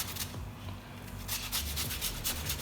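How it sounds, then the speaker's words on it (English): Lemon zest is grated for pasta al limone in quick, close, rhythmic rasping strokes, soft and scratchy, repeating over a couple of seconds. "grate in some lemon zest"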